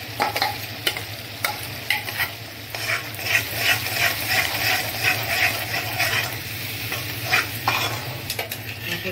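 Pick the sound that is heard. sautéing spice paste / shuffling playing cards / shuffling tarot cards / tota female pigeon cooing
sautéing spice paste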